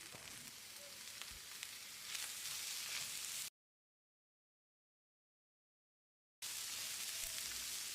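Chopped tomato frying with masala in a pan for Tamil-style mutton curry, a steady close sizzle and crackle that cuts out briefly in the middle and then resumes, with no talking.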